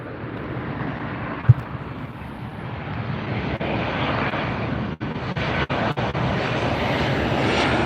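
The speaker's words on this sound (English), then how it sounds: "Lufthansa 747 headed our way for north side departure." A Lufthansa Boeing 747 departing LAX on the north side, its engines a broad, building roar growing louder and closer, with a brief sharp knock early on.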